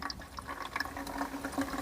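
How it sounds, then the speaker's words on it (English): Water poured in a modest stream into a planting bag of soil, a soft continuous trickle and splash lasting under two seconds, fairly close and fairly quiet. "I'll just put a little bit of water in here"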